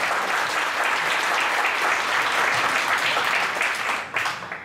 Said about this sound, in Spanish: recibamos a la maestra Miroslava con un aplauso